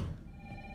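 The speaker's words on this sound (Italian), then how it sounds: "Oh, telefono." A telephone rings faintly inside a house in Resident Evil 3 Remake, a brief, quiet electronic ring heard alone.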